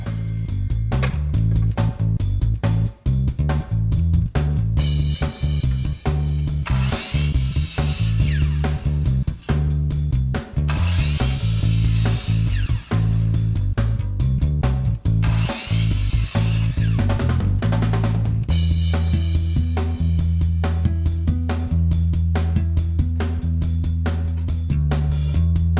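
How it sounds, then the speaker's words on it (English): A power saw cuts wooden studs to length for a 7-foot shed wall, with loud sustained whining runs, brief dips between cuts and a steady motor tone near the end. "Here I'm getting ready to cut the studs for the north wall."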